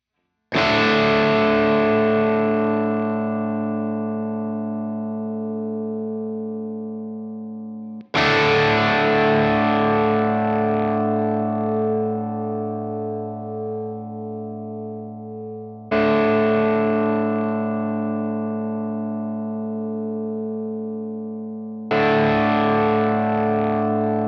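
Four loud, distorted electric guitar power chords, each struck hard and left to ring and sustain for several seconds before the next hit.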